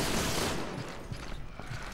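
Gunfire in the video game Resident Evil 6, a dense burst of rapid shots that starts loud and fades into scattered, quieter pops.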